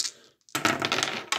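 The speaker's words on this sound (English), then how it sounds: "Keep the dice on the table" Dice clatter onto a tabletop during a Strat-O-Matic baseball tabletop game, a short bright rattle after a brief click and pause, close and clear with no voices.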